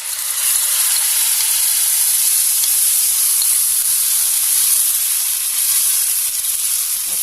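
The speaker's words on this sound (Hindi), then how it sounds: "इसमें हम चटनी को डाल देंगे जो हमने पीसी है" Ground chutney poured into a hot pan with golden-brown fried ingredients, giving a loud, steady sizzling hiss that holds evenly from start to finish with no voices.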